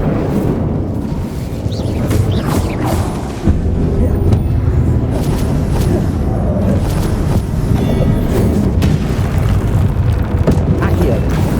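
Fire spells from Hogwarts Legacy, cast during combat, burst as loud booming whooshes of flame in a dense, continuous battle din with layered blasts and rumble throughout.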